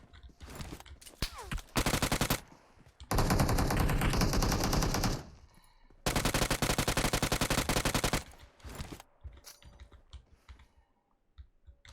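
Gunfire in the mobile game PUBG Mobile: loud bursts of rapid automatic fire, several sustained volleys broken by short gaps, then scattered softer clicks and shots as things quiet down.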